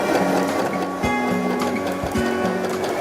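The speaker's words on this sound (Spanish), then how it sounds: "La máquina da 3 puntadas en el excedente y una puntada sobre la tela." A Janome 311 sewing machine stitches fabric, its motor humming steadily with rapid needle clicks repeating evenly throughout, loud and close with no voices.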